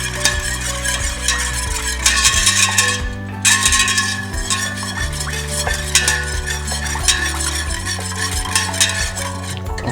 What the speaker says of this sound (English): When we mix into it the sugar, and we mix it.